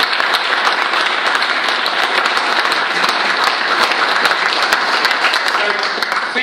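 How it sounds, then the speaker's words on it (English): After a talk on council debt in Whangarei, an audience gives loud, dense and steady applause that runs without a break throughout. "I'd love a big round of applause to Larry"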